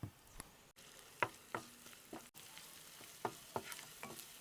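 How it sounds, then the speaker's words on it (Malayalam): Crushed garlic and ginger sauté gently in coconut oil for a Kerala-style soya kurma, a quiet sizzle broken by several distinct spatula scrapes and clicks against the pan, no voices. "നമുക്ക് കുറച്ച് വെളിച്ചെണ്ണ ഒഴിച്ചു കൊടുക്കാം നമ്മൾ ചതച്ച് വെച്ചേക്കുന്ന വെളുത്തുള്ളി ഇഞ്ചി ഒന്ന് ഇട്ട് കൊടുക്കാം ജസ്റ്റ് ഒന്ന് വാട്ടിയെടുക്കാം"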